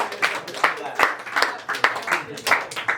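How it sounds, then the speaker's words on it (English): A small group claps in a quick, uneven burst of close, sharp handclaps lasting a few seconds, with voices mixed in around them. "Can we clap for that?"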